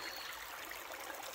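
Water flowing steadily in a small creek, a soft continuous gurgling wash heard close and alone.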